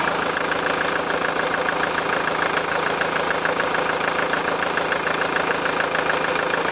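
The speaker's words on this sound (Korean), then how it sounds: "자, 이렇게 카이런 엔진음까지 듣고 오셨습니다." A SsangYong Kyron diesel SUV engine idles steadily, a continuous even rumble with a faint rhythmic clatter heard close up and alone throughout, with no talking.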